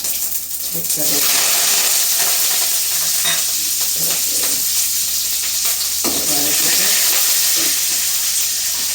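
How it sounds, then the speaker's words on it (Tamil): Mustard seeds and urad dal sizzle and crackle loudly in hot oil for an avarakkai poriyal (broad bean stir-fry), a constant dense frying hiss with faint stirring bumps. "எண்ணெய் காஞ்சிச்சு கடுகு உளுந்தம் பருப்பு போட்டுக்கலாம்"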